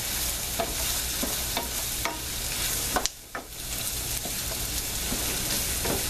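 Breakfast frying in extra grease in a pan, a dense, loud, continuous sizzle and crackle up close, with a few brief stirring scrapes and no talking.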